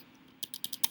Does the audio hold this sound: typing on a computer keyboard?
yes